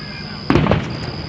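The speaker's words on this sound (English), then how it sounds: "Who popping the firecrackers?" Fourth of July firecracker going off in a city neighborhood at night, one sharp pop followed by crackling, fairly close, over a steady background hum.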